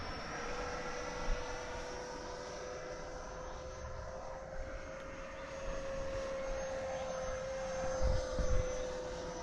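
An Avanti S v2 RC jet on a 6S 10,000 mAh battery flies past with a steady high-pitched whine, a continuous moderate hum that holds for the whole stretch with a small bump near the end.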